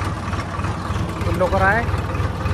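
A Swaraj 963 tractor engine runs with a steady low, pulsing rumble, while someone speaks briefly over it.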